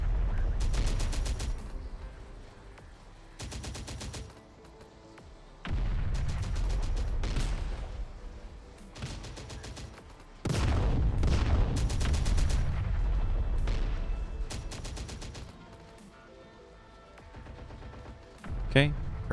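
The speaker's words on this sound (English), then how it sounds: "This is a slow creeping artillery barrage kind of moment." Artillery barrage in Terminator: Dark Fate Defiance: repeated bursts of heavy gunfire and booming explosions, some rapid and clustered, broken by short quieter gaps, with a voice talking over parts of it.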